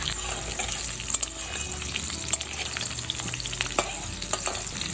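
Long-cut potato pieces, washed and drained, fry in hot oil over a medium flame, giving a steady close sizzle with a few brief stirring clinks and scrapes.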